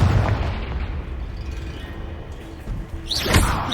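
Confringo blasting spell explosion in Hogwarts Legacy, a deep rumbling boom that decays, followed by a sharp crackling burst near the end, loud and close with no talk.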